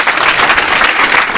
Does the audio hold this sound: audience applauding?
yes